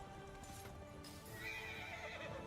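A horse whinnies in the video game Where Winds Meet over the faint sound of hooves and a low steady background, quiet and somewhat distant.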